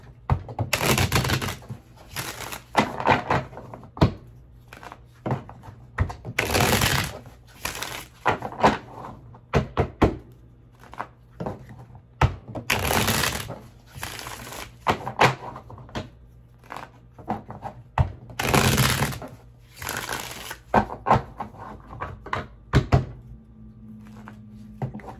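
Repeated bursts of tarot card shuffling, a quick riffle of cards roughly every few seconds, close by, with soft handling clatter in between and no talking.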